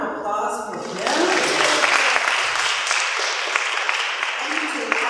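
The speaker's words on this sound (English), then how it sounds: "Round of applause for them." A crowd bursts into sustained applause, many hands clapping together loudly and continuously after a moment of quieter sound.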